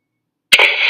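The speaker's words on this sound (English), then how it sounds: "That's the splash sound effect." A short game splash sound: a sharp burst followed by a sustained hissy, watery wash lasting about half a second, alone and fairly loud.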